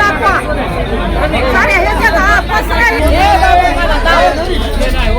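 A dense crowd chattering inside a crowded bank, overlapping voices forming a loud, steady babble with no single speaker standing out.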